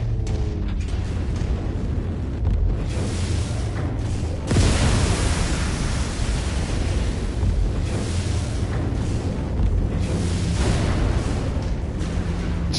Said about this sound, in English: This place is hella exploding.